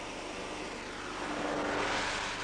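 A natural gas and compressed-air burner flame roars in a steady, broad rushing blast, loud and continuous and rising slightly toward the end, with no voices.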